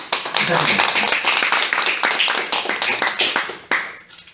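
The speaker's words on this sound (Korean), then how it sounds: "여러분의 큰 박수와 함께 시작하도록 하겠습니다." Audience clapping at the start of a gathering, a brief burst of applause with sharp individual claps and voices mixed in, tapering off near the end.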